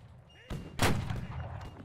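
Gunshot in a shooting video game, a sharp loud blast followed by a short rumbling tail, preceded by a softer thump, with no talk over it.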